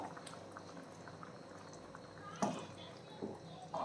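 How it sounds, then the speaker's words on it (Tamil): Millet tomato rice with ghee bubbles steadily in a pan at low volume, with a few louder blips and brief faint voices over it. "இப்போ கொதிக்குது"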